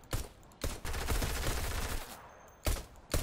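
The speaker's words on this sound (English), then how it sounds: "Wait, where am I getting shot from?" Video game gunfire in an online shooter, close and loud: a short burst, then a sustained rattle of rapid automatic fire lasting over a second, and two more sharp shots near the end, with no voices.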